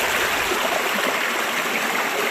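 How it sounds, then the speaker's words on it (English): Broadband rushing of stream water spilling over ripples at the East Fork of the San Gabriel River near Heaton Flats, a steady, close, uniform wash with no voices. "so that the water has to actually go over the ripples"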